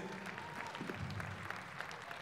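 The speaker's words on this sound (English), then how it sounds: "let's give a big round of applause to my brother, my friend, MC Attraction" An audience at a gospel event applauds for MC Attraction, a continuous crowd clapping texture, fairly distant and soft, with some low murmuring beneath the claps.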